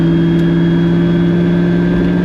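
Engine and drivetrain drone from an LS V8-swapped Bowler Wildcat cruising at motorway speed: a loud, steady, unbroken hum with no voices.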